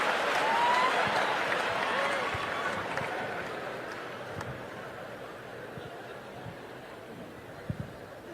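Comedy club audience clapping and murmuring after a joke, a broad wash of applause that starts fairly loud and gradually fades, with scattered chatter and a few louder claps near the end.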